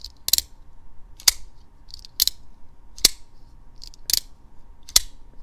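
The lock of a Demko AD20.5 folding knife clicks open and snaps shut again and again, giving crisp, close metallic clacks about once a second in a quiet room.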